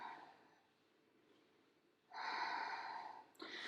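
A slow, audible exhale through the nose during a floor yoga stretch, following a quieter inhale. The breath swells into a steady breathy rush, then fades, close and alone with no talking.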